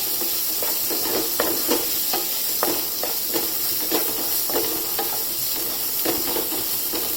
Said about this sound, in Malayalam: ഇതിട്ടൊന്ന് 2 മിനിറ്റ് നന്നായിട്ടൊന്ന് വഴറ്റുക.